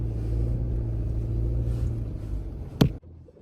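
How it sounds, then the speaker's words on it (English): A car driving off-road up a hilly homestead property trail in Vermont, a steady low engine drone with a sharp knock near the end before the sound cuts off. "I don't usually take my car up our property trail, but today I am"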